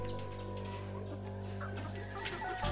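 Domestic chickens cluck in a backyard coop while drinking from a homemade bottle water feeder, soft repeated clucks close by over a steady low hum, with no talking.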